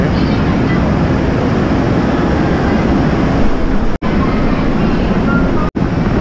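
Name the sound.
inside a moving Amtrak passenger train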